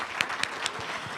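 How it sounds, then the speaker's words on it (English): An audience at an annual meeting applauds, a short burst of steady clapping with a few sharper claps standing out, fairly close. "So let's give them another round of applause."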